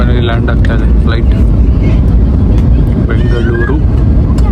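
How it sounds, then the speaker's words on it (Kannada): A passenger airplane lands at Bengaluru, heard from inside the cabin as a loud, steady broadband roar that fills the whole stretch, with voices faintly audible beneath it. "ಫೈನಲಿ ಲ್ಯಾಂಡ್ ಆಗ್ತಾ ಇದೆ ಫ್ಲೈಟ್"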